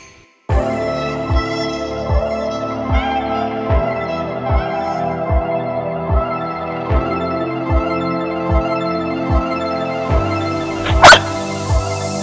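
Two dogs barking near the camera in a repeated, fairly steady series of sharp barks, with a louder burst near the end.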